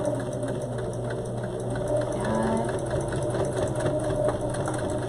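A sewing machine hums and chatters steadily while stitching a cloth face mask, a loud close motor drone with rapid needle clatter running without pause.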